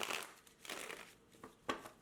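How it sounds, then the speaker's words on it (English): A deck of tarot cards being shuffled by hand during a reading, with soft riffling and crinkling flicks in irregular bursts, close by but very quiet. "Let's do one more shuffle, and then I will be ready"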